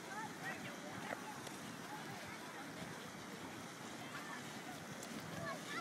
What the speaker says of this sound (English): it's really flowing quite quickly